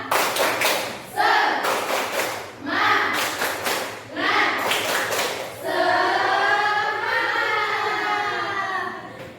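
A group claps a rhythmic Indonesian tepuk semangat cheer as an ice breaker at an indoor gathering, sharp bursts of hand claps in short patterned runs interleaved with chanting voices, ending in a sustained shout.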